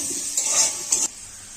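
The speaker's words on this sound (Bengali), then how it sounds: "মাংসটা এবার আমি কষিয়ে নেবো" Chicken being stir-fried with fried onions in a pan for chicken dum biryani, a steady close sizzle with two brief louder scraping stirs, no voices.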